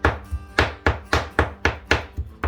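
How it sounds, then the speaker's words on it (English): A knife mincing wild gadwall duck meat on a cutting board, a steady rhythm of about ten sharp thunks at roughly four per second, close and clear with no talking. "I'm mincing it up pretty good."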